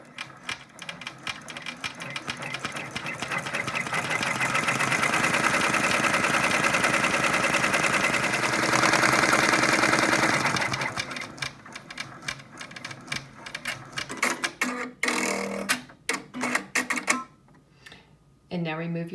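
An embroidery machine stitches out a felt appliqué design in a rapid, steady mechanical chatter that runs loud for about ten seconds, then breaks into shorter bursts and clicks, nearby with no voices over it.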